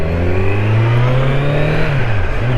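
2024 Kawasaki Z900 naked motorcycle, a close, loud engine drone holding a steady pitch, then easing off briefly and picking up again near the end.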